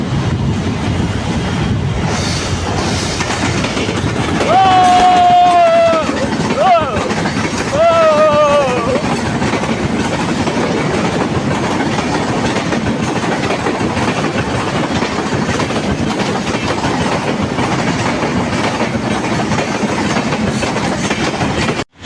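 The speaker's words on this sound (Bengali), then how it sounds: "আমার সামনে এবং পিছনে দুই পাশেই ট্রেন চলাচল শুরু হতে চলছে" Trains rumble and clatter along the tracks nearby, a horn sounding twice early on over the continuous heavy rolling noise.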